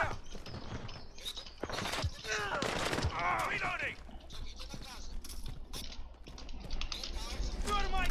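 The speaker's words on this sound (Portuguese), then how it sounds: "tá dando tiro ali!" Call of Duty gunfire crackles in quick bursts and scattered shots amid frantic in-game action, mixed under excited talking from players throughout.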